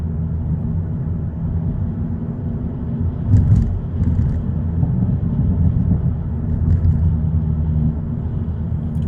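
A Hyundai Elantra N's engine and sports exhaust rumble low and steady at night, with a brief louder surge when letting off at 2,500 RPM, heard from inside the car.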